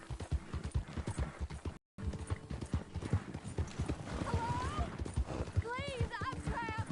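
Rapid clip-clop of horse hooves at a steady gallop in Red Dead Redemption 2, with a horse whinnying near the end and a voice talking underneath.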